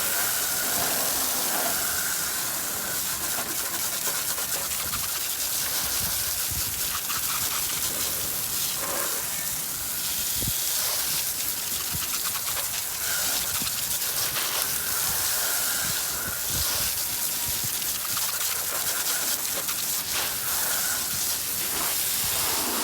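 Steady hissing water spray rinsing brake cleaner off a car wheel, a continuous close rush with small fluctuations as the stream moves across the rim, no talking.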